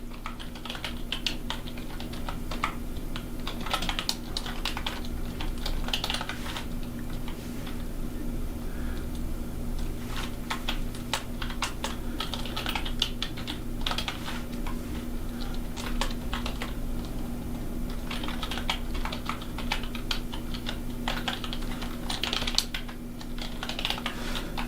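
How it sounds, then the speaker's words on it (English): Typing on a computer keyboard during a coding exercise: bursts of quick key clicks separated by short pauses, close and clear over a steady low hum, with no talking. "You like that typing?"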